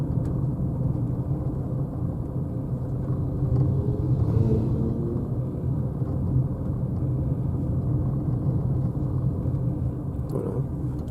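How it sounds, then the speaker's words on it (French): Steady rumble of many cars and traffic on a crowded weekend near a busy lake beach, a continuous low engine drone with slight swells, no voices over it. "Oh, là, le paquet de voitures."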